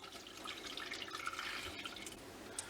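Gelatine mixture poured from a container into a dish in a home kitchen gives a faint, continuous liquid trickle with small splashy drips, soft and close with no talking.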